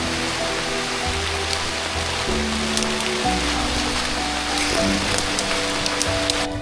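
Steady rain pours down over a rainforest, a dense, unbroken hiss of drops on foliage and surfaces that holds at an even level throughout with no voices.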